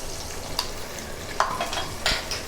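Tomatoes with salt frying in a pan for an egg and brinjal curry, giving a soft continuous sizzle with a few light scrapes from stirring, fairly quiet and close, no voices.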